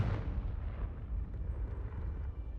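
Confringo fire spell in Hogwarts Legacy, a loud, sustained booming blast with heavy low rumble that holds steady for a couple of seconds without fading.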